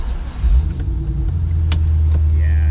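A 2002 Corvette C5 Z06 V8 fires up and settles into a loud, steady, deep idle rumble close by, with a few faint clicks over the drone.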